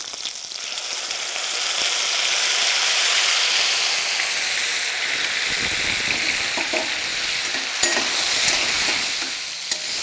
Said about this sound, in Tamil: இது எல்லாத்தையும் கொஞ்சம் நல்லா பொன்னிறமாக வறுத்துக்கணும்.